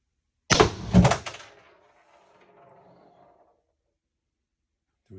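A First Strike FSC paintball gun fitted with an SSD power spring fires a quick cluster of close, sharp pops that fade into a short ringing tail, followed by quiet.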